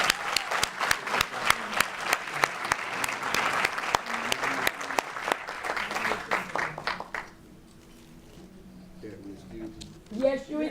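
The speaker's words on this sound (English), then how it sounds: "Let's give them a round of applause" An audience at a school district Black History event breaks into loud applause, the clapping rolling for several seconds before fading out as voices take over.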